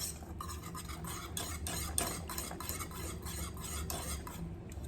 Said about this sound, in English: keep stirring, guys. You do not want lumps in there